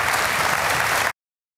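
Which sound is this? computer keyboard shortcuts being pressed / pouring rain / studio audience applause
studio audience applause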